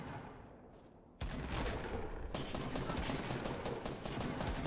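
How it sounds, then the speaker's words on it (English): Rapid bursts of automatic gunfire in a first-person shooter game, loud and sustained, with a sudden jump in intensity as dense overlapping shots continue without pause. "Is that you shooting?"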